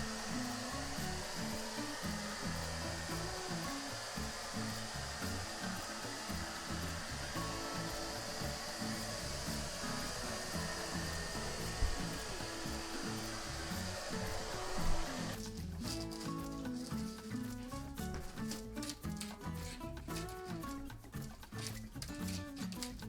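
A hair dryer blows steadily with a constant whooshing hum, continuing for a long stretch, with the tone shifting partway through.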